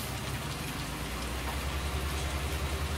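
Steady rain falling in the farming game Farming Simulator 19, a dense continuous patter of drops on surfaces with a low rumbling undertone, even and unbroken throughout with no voices.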